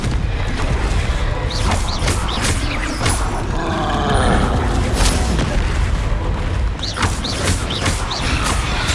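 Confringo, a fiery explosive spell in the video game Hogwarts Legacy, booming blasts with roaring bursts during combat, several heavy impacts layered over a continuous game soundscape.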